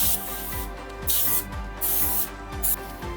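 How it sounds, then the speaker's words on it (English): Cooking spray hissed into an Instant Pot pan lined for a giant cookie, in several short, close bursts separated by brief pauses. "Still give it a nice coat of cooking spray."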